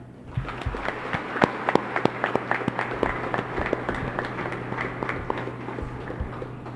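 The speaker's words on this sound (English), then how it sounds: "please welcome with a round of applause the President of the Republic of the Philippines, Ferdinand Romualdez Marcos Jr." Audience applause welcoming the President of the Philippines at a formal government event in Davao, heard as scattered, uneven hand claps with sharp individual hits over a steady low hum, moderately loud and continuous throughout.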